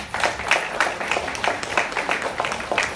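A church congregation claps for itself during a sermon, a brisk rippling applause of many hands with irregular accents, fairly loud and continuous throughout, alone without speech.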